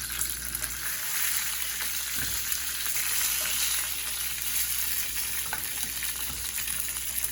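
Mexican street corn searing on a grill gives off a steady, even sizzle and hiss that runs close and unbroken throughout, with a few faint soft knocks mixed in and no talking.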